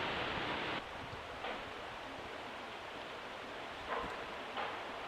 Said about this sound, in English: Can you hear the rustling water?